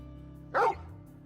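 A single short dog bark, a sharp mid-pitched yap rising briefly over a low steady ambient hum in a Final Fantasy XVI game scene.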